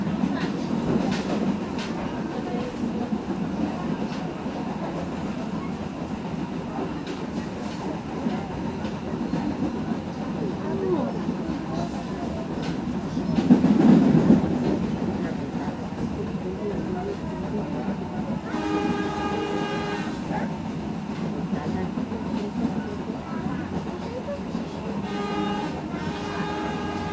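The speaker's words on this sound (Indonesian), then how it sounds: "kereta api yang akan tiba dan berhenti di stasiun Karangantu" A local economy-class train rumbles steadily into Karangantu station, Indonesia, with a continuous low roar and rattling, a brief louder burst midway, and a horn-like tone sounding near the end.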